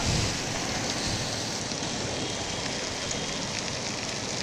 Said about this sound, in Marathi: अचानक पाऊस बरसल्याने